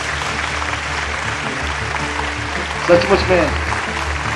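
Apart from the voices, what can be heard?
audience applause for a mother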